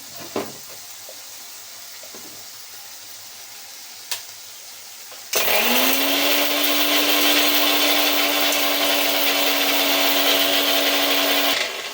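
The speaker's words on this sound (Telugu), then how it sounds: "మిక్సీ పట్టుకుందాం" A few quiet knocks, then a mixer grinder grinds spices, whirring loudly and continuously for the last six seconds, holding a steady high motor whine.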